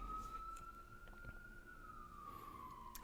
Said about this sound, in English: Give it a second while the sirens pass by.